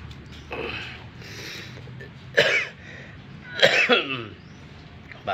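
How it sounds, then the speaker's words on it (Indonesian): Two sharp coughs from a person in a workshop where a scooter's drive belt and rollers are being serviced, set against faint mechanical clicks and background noise. "Batuk."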